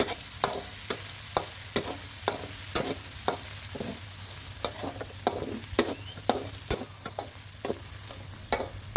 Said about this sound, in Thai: ผัดให้เข้ากับเนื้อหมูนะครับ